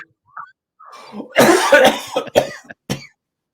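A burst of harsh coughing close to the mic, a few rough hacks trailing into short throat-clearing sounds.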